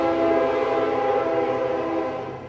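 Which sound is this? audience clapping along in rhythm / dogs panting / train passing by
train passing by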